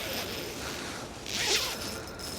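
The zipper on a pocket of a cheap Temu hammock is pulled open in one quick, close rasp, over a soft background hiss.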